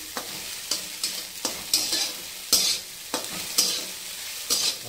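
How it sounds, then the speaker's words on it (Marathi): Egg bhurji stir-fried in a pan, a spatula scraping and tossing in about ten sharp strokes over a steady close sizzle, with no voices. "चांगलं दोन्ही हातानं पकडून व्यवस्थितपैकी एकदा परतून घेतो"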